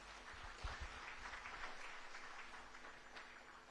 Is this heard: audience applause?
yes